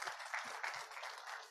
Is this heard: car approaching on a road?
no